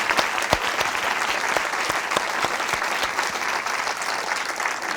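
An audience at a storytelling event applauds steadily, a dense, sustained clapping from a sizable crowd with sharp individual claps standing out, no talk over it.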